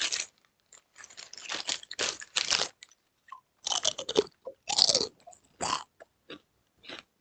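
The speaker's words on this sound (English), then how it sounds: "I'm gonna eat some Doritos." Close, crisp crunching and chewing of Doritos tortilla chips, set off in irregular loud bursts with short quiet gaps between bites. No talk is heard.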